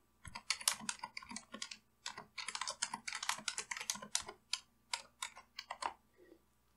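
Rapid typing on a computer keyboard while entering values into an Excel spreadsheet, with bursts of close, crisp key clicks and short pauses between runs.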